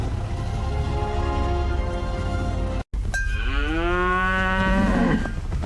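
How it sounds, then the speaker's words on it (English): A herd of African buffalo among acacia bush gives deep, drawn-out guttural bellows, one long lowing call rising clearly after a brief gap over a constant low rumbling background. "They move with the sound of a rolling earthquake, a low rumble of hooves and deep guttural bellows."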